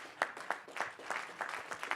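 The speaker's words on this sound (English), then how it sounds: "Can we please stand and give these gentlemen a round of applause, please?" Light clapping from a small audience at a youth leaders panel, individual claps standing out in a loose, uneven rhythm across two seconds.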